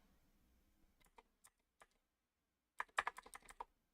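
Quick keyboard clicks during Minecraft modded play, a few sparse isolated taps followed by a dense burst of rapid keystrokes, close and crisp with no talking.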